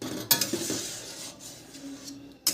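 A spoon stirs thick lentil dal cooked with bottle gourd in a pot, giving close scraping and sloshing with a couple of sharp metallic clinks against the rim.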